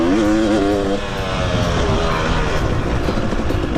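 A motocross bike's engine roars loud and close while riding over jumps, a steady droning whine whose pitch wavers up and down as the throttle shifts, with no talk.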